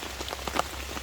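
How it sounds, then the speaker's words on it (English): Rain patters steadily on a wet campsite during a soaked solo overnight, with a dense close spatter of drops hitting surfaces and no voices. "my feet are getting rained on"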